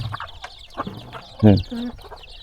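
Chickens and ducks cluck at a farm in the morning, with short clucks and one louder, drawn-out squawk near the middle over low background noise.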